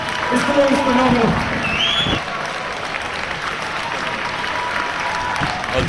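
A live audience at a wrestling show applauding, a dense wash of clapping and crowd noise that is loudest early and continues steadily, with a voice speaking over it at the start.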